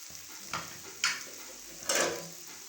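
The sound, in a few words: potatoes with green chilies cooking in pan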